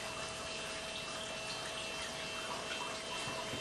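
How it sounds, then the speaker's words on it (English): Water pours in a steady, even rush onto dry polyacrylamide crystals, a continuous faint splashing hiss heard alone without any voices. "Here we have some polyacrylamide crystals in their solid state. And then we're going to just subject them to water."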